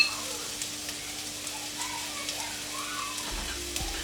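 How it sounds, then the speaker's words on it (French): Chopped onions cooking in hot oil for Congolese red bean stew, a faint, even sizzle close by with soft crackle and a low steady hum underneath. "Et je vais pouvoir verser dans mon huile."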